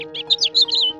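A house finch sings a brief, bright warbling phrase of several quick chirped notes, close and clear, over a faint steady hum.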